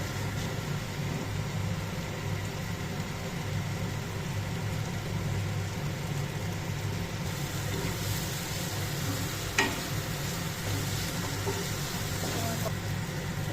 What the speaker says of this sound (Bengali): পোস্ত, টমেটো, পেঁয়াজ ভালোভাবে নাড়াচাড়া করে তেল ছেড়ে এলে তখন একটু দিয়ে দেবো জল। আমার কষানো হচ্ছে।